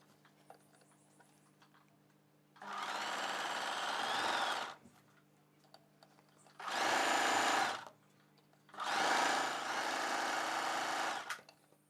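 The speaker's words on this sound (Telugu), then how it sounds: "ఈ డ్రెస్కి చివరన అంచుని ఫోల్డ్ చేసి కుట్టు వేసేసుకోవాలి" A sewing machine stitches the folded hem at the bottom of a maxi dress in three bursts of rapid, buzzing needle clatter, separated by short quiet pauses with faint clicks, close and clear.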